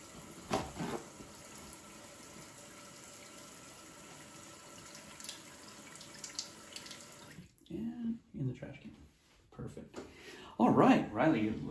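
Tap water runs steadily into a sink as hands are rinsed during hand-washing training, a continuous faint hiss later broken by louder splashing, with voices talking over it.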